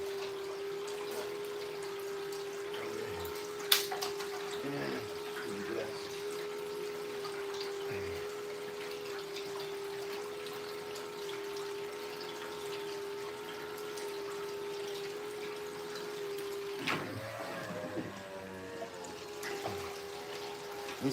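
Water trickles continuously from the outlet of a gold prospecting pump running on a nearly dead battery, a thin steady flow with a faint constant whine and a few brief clunks and splashes.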